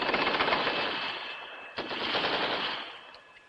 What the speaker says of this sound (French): Il va bien entendre les coups de feu